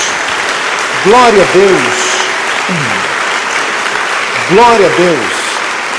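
Congregation applause at a church service, a steady crackling wash of clapping running the full length beneath voices calling out praise.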